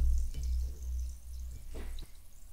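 San Pellegrino sparkling water is poured close up, a soft low gurgle and fizz with faint drips and bubbling, quiet and alone.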